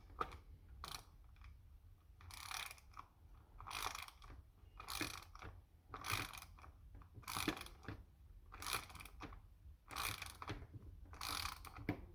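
A nut is spun onto the axle of a Traxxas Stampede Bigfoot RC truck with a tool, giving quiet, rapid ratcheting clicks in repeated short bursts with brief pauses between.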